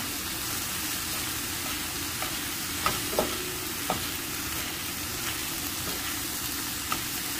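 Aromatics sizzle and crackle steadily in a hot pan for crab soup, with occasional clinks of a utensil stirring.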